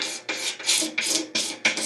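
Razor blade scraping cured Zpoxy pore fill off a guitar peg head in repeated strokes, about six close, raspy passes, each a short burst with brief gaps between them.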